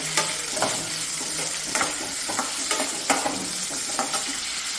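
Green chillies fry and splutter in hot oil, a steady close sizzle broken by irregular sharp pops and crackles from the pan, with no voices.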